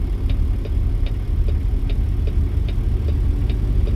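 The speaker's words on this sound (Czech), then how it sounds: "Tady dám blinker doprava." A truck's turn signal ticks in American Truck Simulator, about two clicks per second in an even rhythm over a steady low engine idle.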